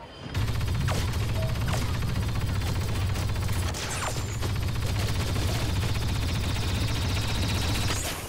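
Blaster gunfire in a Star Wars video game battle on Hoth, sustained rapid bursts with sharp shot transients over a steady low battle rumble throughout.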